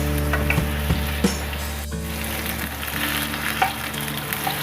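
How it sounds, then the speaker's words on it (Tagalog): Potatoes stir-frying in oil in a pan for chicken curry, a steady sizzle broken by scattered clinks and scrapes of a utensil, close and without speech. "So, we're going to stir fry first the potato."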